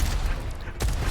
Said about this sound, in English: That's why I rocket jump here